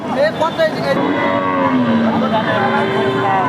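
A local-breed cow with a calf moos several times in drawn-out, low calls, close by at a cattle market, with faint background noise.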